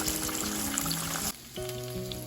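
Steady sizzling and crackling of a chicken thigh frying in hot oil, close up, with a brief dip partway through before the bubbling resumes.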